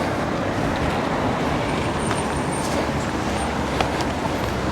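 Steady road traffic near a pedestrian crossing on a greenway link between Castres and Mazamet, cars and heavier vehicles passing in a continuous broadband rumble with no talk over it.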